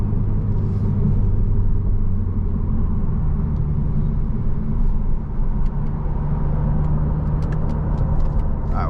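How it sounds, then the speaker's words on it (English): BMW Z4 30i, a 2023 roadster, cruising in Sport Plus mode with a deep, steady exhaust drone and low engine rumble throughout, heard from inside the cabin, with faint ticks and light road noise but no speech. "Exhaust gets a little bit louder"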